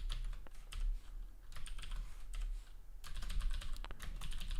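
Fingers typing on a computer keyboard while entering code, a steady patter of clicks with denser bursts toward the end, no voices.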